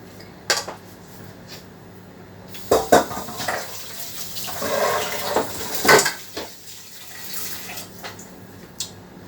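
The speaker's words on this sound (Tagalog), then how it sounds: "Babaran ko siya ng tubig." Water runs into a pot sticky with leftover rice, mixed with clinks and knocks of dishes and utensils and a steady trickle nearby.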